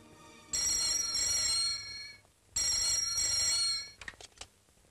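A telephone bell rings loudly in two long bursts with a pause between, in a scene from a Gujarati film, followed by a few brief fainter clicks.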